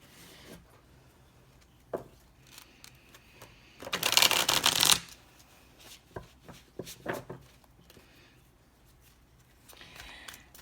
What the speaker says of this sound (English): let's pull some cards for this side.